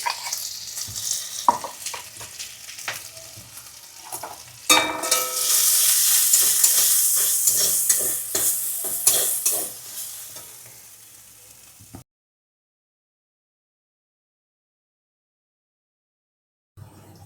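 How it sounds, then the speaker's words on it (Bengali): Green pea paste for kachori filling sizzles and fries in a wok, with scraping stir strokes growing louder midway before the sound cuts to silence near the end. "কড়াইশুঁটির পেস্টটা দিয়ে ভালো করে নাড়াচাড়া করা হবে।"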